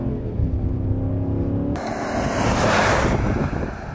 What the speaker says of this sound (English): So that first run, we had some wheel spin, traction control kicked on.